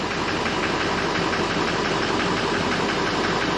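A Ford 6.0 Powerstroke diesel engine idles after being hydrolocked, a steady close rumble with a rapid, even knock and no voices.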